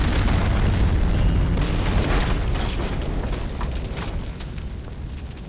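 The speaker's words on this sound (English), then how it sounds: "when you fired that round, the round would penetrate the wall and then explode inside." A tank round bursts inside a wall, heard as a loud, rumbling boom that decays slowly over several seconds with crackling debris and no speech over it.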